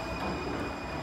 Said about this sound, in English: there are two types of trains in Munich, the new one